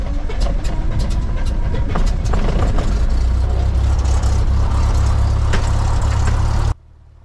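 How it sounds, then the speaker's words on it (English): A Cessna Skyhawk's piston engine catches and settles into a steady, loud low rumble with a constant drone, heard from inside the cockpit, then cuts off abruptly near the end. "We're commencing engine start!"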